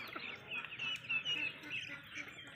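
A flock of Muscovy and laying ducks on a farm quacks steadily in a dense, overlapping chorus at low level, with faint nasal calls repeating through the background.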